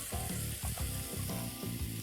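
A teaspoon of ginger garlic paste sizzles and crackles in hot vegetable oil in a pan, a close and steady frying hiss with no talk over it.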